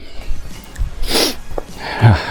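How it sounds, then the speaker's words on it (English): A hiker on the Hayeswater Circuit in the Lake District fells gives a couple of sharp, close nasal sniffs or snorts, spaced about a second apart against quiet outdoor background noise. "Sorry for all the sniffing, by the way."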